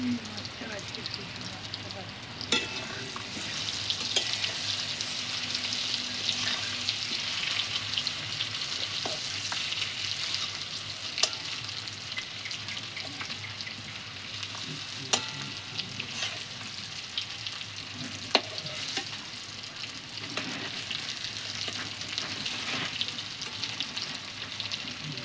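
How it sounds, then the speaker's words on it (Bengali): Potatoes frying in a pan over a clay stove fire, a steady close sizzle and crackle running throughout with occasional sharper pops, speech-like sounds faintly present. "আলুটা ভাজা হয়ে গেছে লাল লাল করে, এবার তুলে নেওয়া হবে।"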